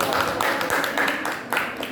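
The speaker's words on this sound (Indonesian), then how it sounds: "Ya, boleh tepuk tangan buat Ibu Sri." Crowd applause, a steady wash of many hands clapping at moderate volume, continuing throughout without pause.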